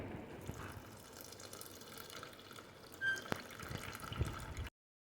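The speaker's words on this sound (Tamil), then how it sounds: "இப்போ நான் வந்து புளி தண்ணியை ஆட் பண்ணிக்கிறேன்" Tamarind water pours into a simmering fish curry, a faint continuous splashing trickle with a few louder splashes before cutting off.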